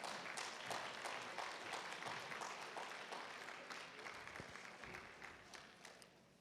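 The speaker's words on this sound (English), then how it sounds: "Let's give Inspector Litter a round of applause." An audience at a neighborhood award ceremony applauds an inspector, a sustained round of clapping from a crowd that gradually fades, with a few voices faintly underneath.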